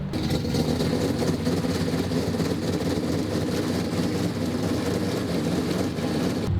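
An AWD car's 4-rotor rotary engine with a suspected failing oil pump, idling steadily while warming up, giving a constant loud low drone with a buzzy, slightly uneven texture and no pauses.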